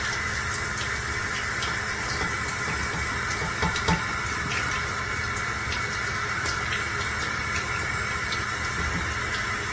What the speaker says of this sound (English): we are just going to go ahead and turn on the water.